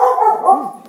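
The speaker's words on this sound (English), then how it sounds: "the dogs go kind of crazy when somebody comes to the door" Dogs bark excitedly when someone comes to the door, a loud, close burst of barking and yipping with no talk over it.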